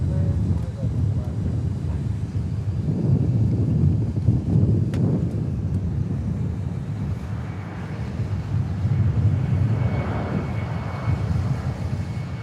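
Eva Air airliner at Dallas Fort Worth Airport, a distant jet engine roar that swells and fades over several seconds, mixed with wind buffeting and casual conversation from people watching nearby.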